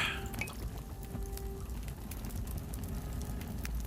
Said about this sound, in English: Throw all this water in here.